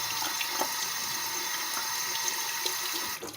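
Hot water poured onto slime makes a steady close splashing rush, like a running tap, continuous for a few seconds before tapering off at the end.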